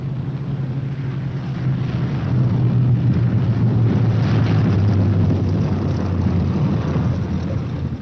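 B-17 bomber arriving at an airfield, a loud, steady propeller-engine drone that swells slightly in the middle and holds on, with rough wind-like rumble and no voices.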